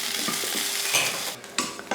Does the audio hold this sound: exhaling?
no